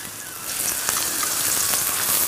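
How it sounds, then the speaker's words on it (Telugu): Onion pieces and curry leaves fry in hot oil, giving a steady, close, crackling sizzle that continues evenly throughout without any talk. "ఇప్పుడు ఈ ఉల్లిపాయలు బాగా వేగాలరా"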